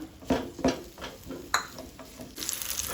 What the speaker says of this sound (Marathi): आनी आतां मातशें खाजूर हांव तळसून घेता